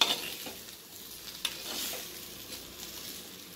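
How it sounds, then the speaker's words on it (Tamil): Gooseberry pickle with sesame oil being stirred in a pan gives quiet scraping and a light sizzle, with a couple of brief clinks early on, close and faint, with no talk. "எல்லாத்தையும் நல்லா மிக்ஸ் பண்ணிடுங்க"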